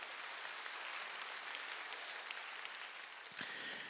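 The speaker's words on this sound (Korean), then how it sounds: "동산의 가족이 되신 분들에게 마음을 담아 박수로 환영해 주시겠습니다." A congregation at a Sunday morning service at a Korean church claps to welcome new members, a dense, steady wash of applause that runs the whole length with no talking over it.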